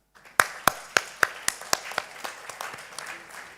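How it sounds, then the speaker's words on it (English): Applause at an award ceremony for the winners, opening with a few sharp, separate claps that quickly grow into a steady, thinning patter from a modest audience. "Let us give final strong applause for all the winners tonight"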